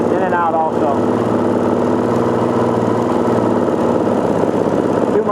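A Gen II four-stroke engine idles loud and close during carburetor idle fuel-screw tuning, with a steady, slightly uneven running drone and no voices.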